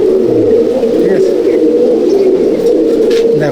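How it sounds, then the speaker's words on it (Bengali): An Andhra pigeon held in the hand coos in a steady, continuous low murmur, close and fairly loud, with other pigeons cooing faintly around it in a loft and speech mixed in. "হাতের মধ্যেই ডাকছে পায়রা"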